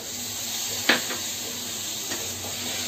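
Chopped tomatoes drop into a pan of fried onions and spices, giving a steady close-up sizzle with a sharp clack of the addition and a softer knock of the utensil a moment later.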